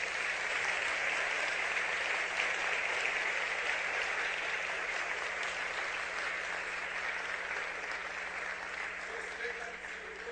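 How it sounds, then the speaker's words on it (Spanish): Steady, dense applause from a large crowd at a religious gathering in Tegucigalpa, loud and sustained throughout, fading slightly toward the end. "un fuerte aplauso a sus hermanos en el mundo entero"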